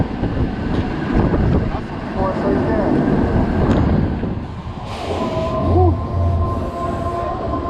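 The Phoenix roller coaster at Coney Island, Brooklyn, rumbles loudly and continuously along its track on opening day, with steady rattling, clattering wheels and wind noise heard up close from the back row, and riders' voices mixed in.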